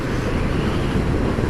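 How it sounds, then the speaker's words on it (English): Heavy wind buffeting the microphone while riding a 1998 Kawasaki GPZ500 motorcycle, a loud continuous low roar with no speech. "Still a bit windy. Hopefully you guys can still hear me."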